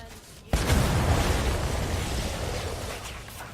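A cannon fires in Warhammer: Vermintide 2, with one sharp, loud blast that rolls into a long rumbling decay lasting a few seconds, preceded by a brief moment of quiet.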